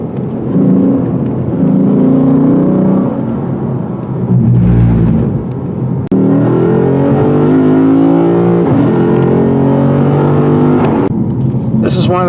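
Lexus RC F V8 coupe, 2020 model, driving on a winding road, its engine rising and falling in pitch through gear changes and revs, with someone talking over the steady car noise.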